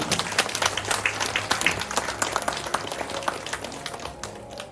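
Applause from an audience at a children's reading-essay award ceremony, a dense patter of many hands clapping steadily, moderately loud, slowly thinning toward the end.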